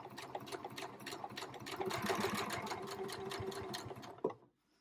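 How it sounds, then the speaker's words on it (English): A sewing machine runs steadily while understitching a pocket, its rapid needle clatter close and continuous for about four seconds before a final clunk and sudden stop. "And now we've understitched that"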